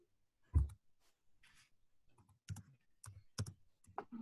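Typing on a computer keyboard during an online class, a few sparse, close keystrokes and clicks with quiet gaps between them.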